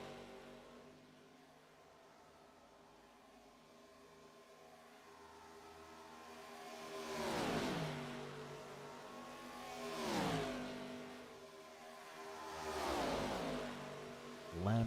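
Stock cars roaring down the backstretch at Talladega in a Cup Series race, three distant engine swells rising and fading past one after another, with a steady whining pitch sweep as each car goes by.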